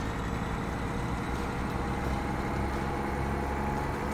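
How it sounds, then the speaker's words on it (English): A Kenworth T680 Next Gen semi truck idles in American Truck Simulator, a steady low diesel rumble with windows down, constant and fairly loud without any talking. "this truck is a little bit loud with the windows down"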